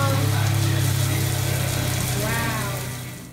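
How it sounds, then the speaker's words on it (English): Heavy rain pours down near a garage, giving a dense, continuous wash of noise with a low steady rumble underneath, loud and close throughout, with faint voices partly buried in it. "I have never seen it rain like that."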